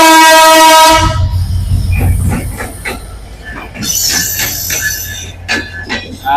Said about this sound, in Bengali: এই দেখেন ট্রেন চলে আসে